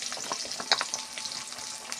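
Chopped onion and potato fry in oil for a water spinach dish, giving a continuous close sizzle broken by light stirring scrapes.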